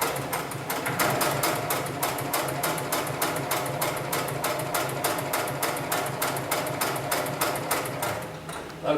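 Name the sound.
heavy-duty industrial sewing machine stitching textile webbing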